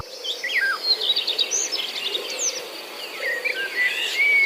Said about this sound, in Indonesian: Terus ada suara burung.